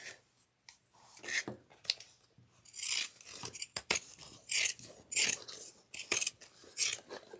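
Pinking shears trimming the seam allowance of a fabric crossbody bag, a run of close, crisp snipping and rasping cuts in irregular bursts, with no talking.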